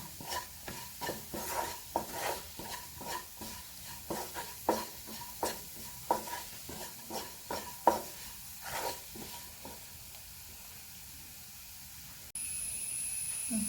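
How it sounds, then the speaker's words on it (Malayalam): Soya fry with coriander and chilli powder stirred in a hot pan, producing a regular run of close spoon scrapes over a soft sizzle that fade out near the end, followed by a brief steady hiss. "നമുക്ക് ഇളക്കി കൊടുക്കാം"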